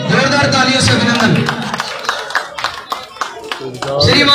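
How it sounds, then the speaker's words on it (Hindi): A crowd claps at a village political rally, a burst of applause under an amplified announcer's voice that thins into scattered claps before the announcer speaks again. "जोरदार तालियों से अभिनंदन"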